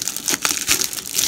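Crinkly plastic wrapping is torn and crumpled while opening a Yu-Gi-Oh! 2017 Mega Tin, a close, continuous rustling with short sharp crackles and no talking.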